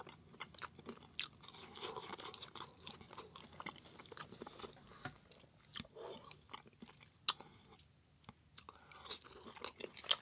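Close, crisp crunching and chewing of air-fried vegan enoki mushroom burgers and fries, with irregular bites and munches continuing throughout and no talking.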